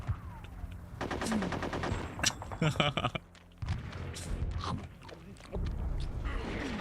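Rapid submachine gun bursts in the game Conker's Bad Fur Day, two clusters of fast rattling shots mixed with game effects, voices and engine-like rumble running throughout.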